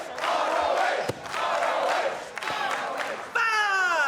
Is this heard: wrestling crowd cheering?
yes